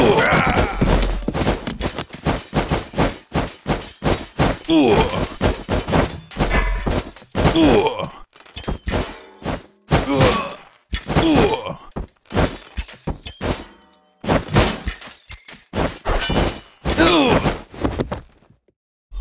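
Archidon archers loose arrows in Stick War Legacy, a dense, rapid run of sharp thunks and clatters lasting nearly twenty seconds, loud and continuous with short gaps, over a battle din.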